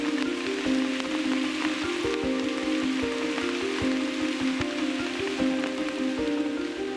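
Steady rain in Brazil pattering down continuously, with a constant hiss and scattered drops, fairly close and uninterrupted.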